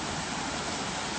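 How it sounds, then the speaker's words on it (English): A homemade backyard waterfall built from cut bamboo pours with a steady, even hiss of splashing water, moderately quiet and continuous with no speech. "Can never get enough of the waterfalls, you know what I'm saying?"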